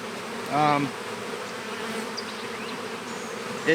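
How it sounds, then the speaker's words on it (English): Honey bees buzz around a nucleus colony hive, a close insect drone passing near at the start and again at the end over a faint steady outdoor hum. "these two bees, one of the bees from the other hive went in the wrong hive"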